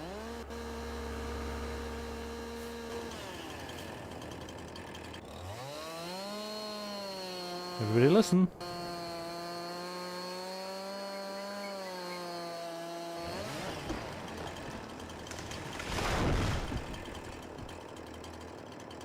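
A chainsaw in Farming Simulator 22 revs up and cuts down a tree, a loud sustained whining engine with rising and falling pitch, briefly bogging as it bites, then a crash as the trunk falls, with a voice speaking briefly.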